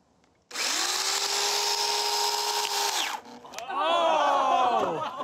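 A chainsaw revs loudly and steadily against a thick mass of oobleck, a cornstarch-and-water fluid, then its pitch wavers and bogs as the blade digs into the hardening slurry, close and dominant with no voices.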